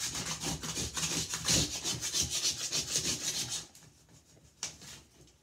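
A scraper tool works across bathtub walls in rapid, rhythmic rasping strokes, close and steady for a few seconds before stopping, followed by near silence and one brief final scrape.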